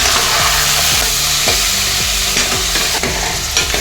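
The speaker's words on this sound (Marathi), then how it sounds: "हे जे धुतलेले मटण आहे ना हे यात आपल्याला सोडायचे तुपात आणि याला चांगले परतून घ्यायचे आपल्याला" Washed mutton frying and being stirred in hot ghee in a pot, with a loud, steady sizzle and repeated scraping stirs throughout and no talking.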